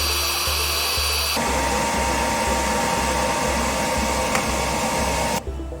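Gas forge roaring steadily while melting metal for casting, a loud continuous broadband blast with a rhythmic low pulsing, cutting off abruptly near the end.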